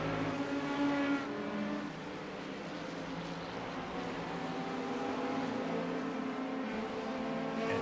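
A Corvette and a Porsche race past in a World Challenge round at Imola in a racing game, their engines droning and shifting pitch as they go by, fairly quiet and steady.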